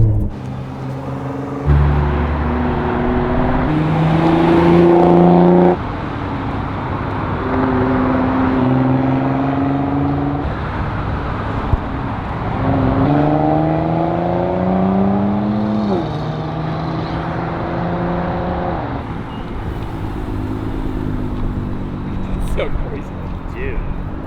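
A 710hp Nissan GT-R50 by Italdesign revs and drones with rising and falling pitch, loud and close, changing gears through the run, with no talking.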